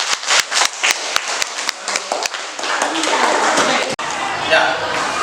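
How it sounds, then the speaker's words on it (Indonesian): Students in a classroom clap after a group presentation on prayer, a run of sharp close claps at first, then blending into louder chatter and room noise with voices talking. "dan tepuk tangan"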